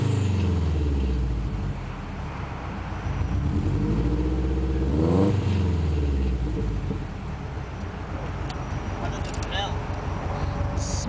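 A Subaru WRX bugeye's exhaust rumbles deep and loud close by, swelling in a rev around the middle and then settling back to a throaty idle.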